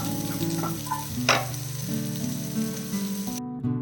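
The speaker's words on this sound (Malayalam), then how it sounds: "ചെറുതായിട്ടൊന്ന് ക്യാപ്സിക്കം വഴറ്റിയാൽ മതി" Chopped capsicum sautés briefly in a pan for egg manchurian, with a steady sizzle and an occasional stirring scrape over background music.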